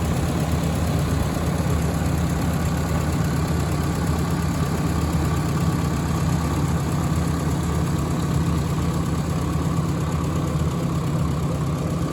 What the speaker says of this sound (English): it's great to have the tractor back to purring like a kitten